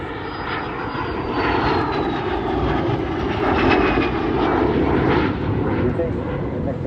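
A jet aircraft with a molded plywood fuselage and a mid-mounted engine flies at a seaside airshow. Its steady engine roar rises and swells with a whining tone while an announcer talks over it.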